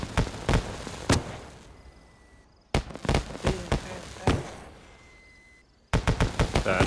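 Fireworks go off in a video game, sounding as sharp, loud cracking bursts in rapid clusters separated by short fading lulls, with a final barrage of quick pops.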